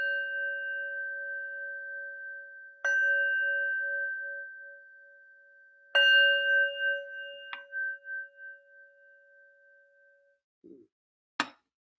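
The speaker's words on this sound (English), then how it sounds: "I'll ring the bell to end the sit." A meditation bell is struck three times to close a sitting session, each strike ringing with a clear sustained tone that slowly decays, followed by a couple of faint soft taps.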